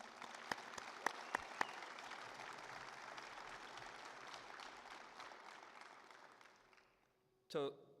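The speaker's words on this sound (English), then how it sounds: "please give Paul a round of applause" A crowd at a hall of fame ceremony applauds steadily with a few sharper claps standing out, the clapping fading away near the end before a short burst of another sound.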